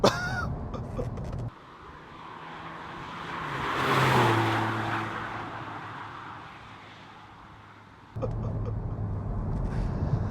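A Cupra Ateca accelerates hard with paddle-shift downshifts, its engine rising to a loud, swelling roar that peaks and then settles into a steady drone, with road noise heard before and after.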